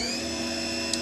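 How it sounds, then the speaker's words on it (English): CNC mill changing automatically from a high speed steel tool to an 18mm carbide tool: a brief, steady mechanical whine with tonal layers, close and alone, ending in a small click. "First we get a tool change from the high speed steel tool to the 18mm carbide tool."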